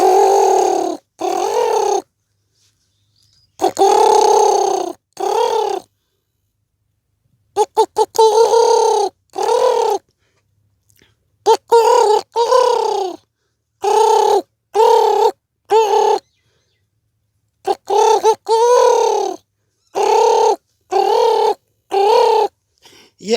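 A man vocally imitates the call of a spotted dove, close and loud, in short repeated cooing bursts separated by brief silences.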